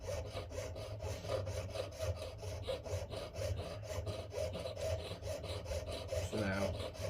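Rhythmic rasping strokes of a file or saw work excess metal off a handmade silver ring, steady back-and-forth scraping repeated close up for several seconds.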